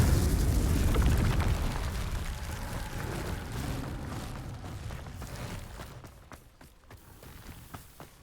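A Confringo blasting spell in Hogwarts Legacy erupts in a loud, rumbling explosion that slowly fades, followed by a few faint scattered pops and crackles.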